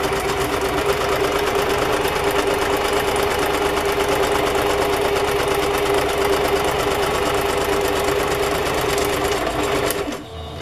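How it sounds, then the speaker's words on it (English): A sewing machine hums continuously and close up as it stitches down the last edge of a collaged fabric journal cover, running unbroken for about ten seconds before stopping. "I'll just cut the threads and I will start up here just to sew that last edge down."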